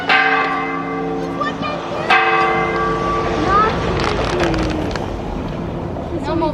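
An automatic church bell rings out loud and close in repeated tolls, each strike leaving a long shimmering hum, while traffic and voices murmur around it.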